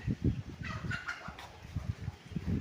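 Chickens cluck in short bursts close by at a rural property in Nagcarlan, Laguna, a steady scatter of low clucks with a few brighter calls mixed in.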